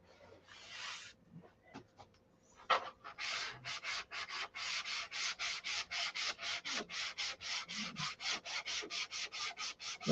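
Sandpaper rasps against a painted surface in quick, even back-and-forth strokes, a long run of rhythmic scratchy rubs after a few scattered ones, fairly close.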